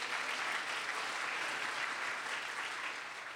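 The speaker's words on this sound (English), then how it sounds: "let's give her a big round of applause" An audience at a College of Marin evening event claps in a steady, even wash of applause that tapers slightly at the end.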